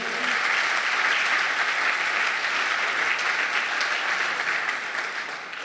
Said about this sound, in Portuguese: vamos dar um aplauso aí, o nosso Deus